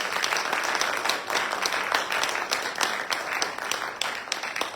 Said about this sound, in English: will you give these students a real round of applause?